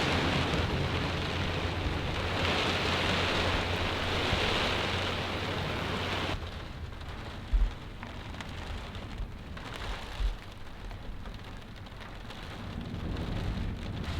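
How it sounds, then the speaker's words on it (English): Heavy rain pours steadily onto a camping truck in a strong storm, a dense, continuous hiss that eases slightly partway through, with a couple of dull thumps from drops or gusts and no talking. "the rain is just coming down"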